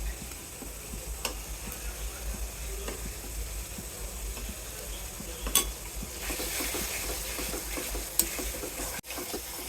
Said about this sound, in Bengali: ভালো করে মশলা কষিয়ে নিলাম